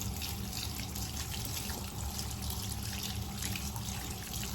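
Tap water pours steadily over a makeup brush being rinsed of soap and foundation, a dense unbroken close-up rush of running water with no voices.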